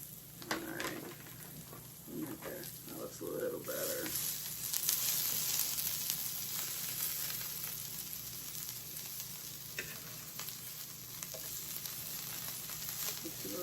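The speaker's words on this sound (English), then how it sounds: "frying this stuff first. So get the oil mixed around on my tortillas." Flour tortillas frying in hot oil for birria tacos give a steady, close sizzle with crackling bursts that stays fairly loud throughout, with no talking.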